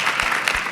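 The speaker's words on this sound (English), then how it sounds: "So please, an applause for the tech people." A conference audience claps for the tech crew at a medical research breakout session, a brief dense burst of applause heard up close.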